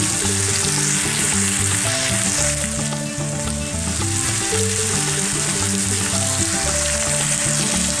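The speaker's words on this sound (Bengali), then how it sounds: "চিকেনটাকে এবার এর সাথে পুরো ভালো করে কষিয়ে নিতে হবে" Chicken pieces sautéing and being stirred in a hot pan during slow Bengali-style kosha cooking, with a steady loud sizzle and frying crackle throughout, no voices.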